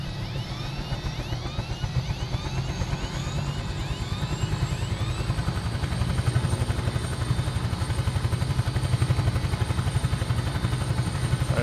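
A Huey helicopter in Microsoft Flight Simulator during an autorotation gives a steady rhythmic rotor thump with a whining turbine tone, loud and continuous, the whine sliding slowly upward as the blades keep chopping.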